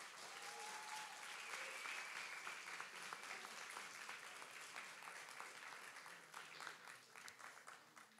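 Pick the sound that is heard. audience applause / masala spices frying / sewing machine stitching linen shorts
audience applause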